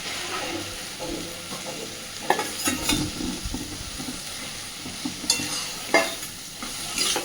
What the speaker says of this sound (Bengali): এইবার ভেজে রাখা গুগলিটা এর মধ্যে দিয়ে দিচ্ছি